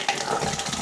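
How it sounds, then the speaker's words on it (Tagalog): Water runs from a campsite sink tap in a short, close, steady splashing gush. "Ito yung lababo nila."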